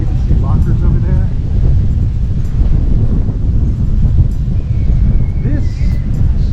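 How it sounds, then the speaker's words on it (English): Strong wind by the water at Coco Cay buffets the microphone in a constant low roar, with faint voices and distant activity in the background. "This side of the water is super windy."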